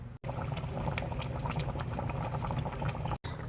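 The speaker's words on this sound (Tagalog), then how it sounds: "papakuluan lang natin yan. Hayaan natin lumambot yung saging." Balbacua stew with banana bubbles steadily in a pot, a continuous soft simmering burble that holds for the whole stretch.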